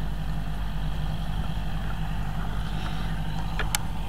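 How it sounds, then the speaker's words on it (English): A Kubota tractor on a ranch drives downhill, heard as a steady, fairly loud low engine drone with constant rumble throughout, and a few faint higher clicks near the end. "He's coming down with the Kubota there."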